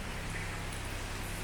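Rain falling inside an abandoned factory building, the Jupiter plant in Chornobyl, making a steady, even hiss with a low background rumble and no voices.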